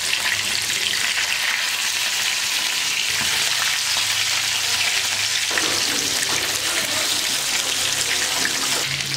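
Fish fillets sizzle and crackle steadily in hot oil in a pan for a Tamil Sunday lunch, a dense continuous hiss with no voices.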